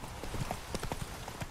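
Horse hooves clip-clopping in The Witcher 3 video game during a mounted fight, a quick irregular series of hollow thuds heard close, with soft background game ambience.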